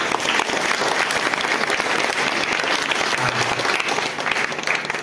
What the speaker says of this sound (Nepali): हामी उहाँलाई नै ताली बजाइदिउँ एकपल्ट